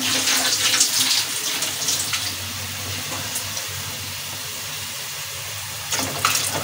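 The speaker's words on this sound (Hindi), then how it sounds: "अभी इसमें दाल ऐड करते हैं।" Soaked masoor dal goes into boiling water in a cooking pot, heard as a steady watery rush and splashing, close and moderately loud, with no talk.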